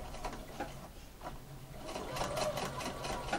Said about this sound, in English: Just keep sewing, go as slow or as fast as you can, or slow, but just make sure that you're on the edge of that folded seam